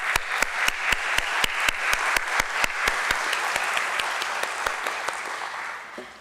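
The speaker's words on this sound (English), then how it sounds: "I think this should be our cue for a huge round of applause." A large crowd at a stock exchange listing ceremony for Bajel Projects Limited at BSE gives a long round of applause. Loud, steady clapping with sharp individual claps standing out fills the full six seconds, then thins near the end.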